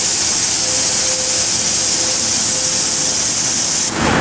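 An aerosol can of contact cleaner sprays in one loud, continuous hiss lasting about four seconds before cutting off abruptly.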